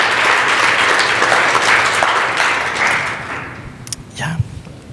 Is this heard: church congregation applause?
yes